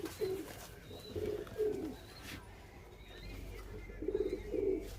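Kalshira pigeons at a loft give several short, low, throaty coos in spaced bursts. The calls are near and fairly clear over quiet room noise, and no one talks.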